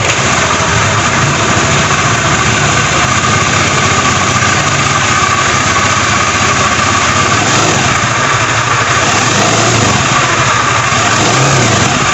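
Honda Beat FI scooter engine running steadily and loudly at close range, holding a constant drone throughout with slight rises in revs and no talking.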